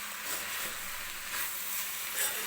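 Cluster bean (gavar) vegetable being stirred in a pan, giving a steady, even sizzle with soft scraping swishes, continuous and close, with no voices.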